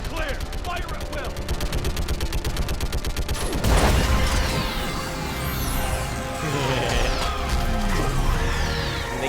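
A video game battle erupts in rapid, steady automatic gunfire, then a heavy crash and sustained barrage of shots and impacts, loud and near, with voices speaking over the chaos.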